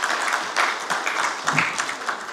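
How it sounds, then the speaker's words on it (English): Applause at a bank's economic and business breakfast forum, a dense round of clapping from a seated audience that runs steady and fairly loud for a couple of seconds. "Can we do a better round of applause for Mr. Hudson?"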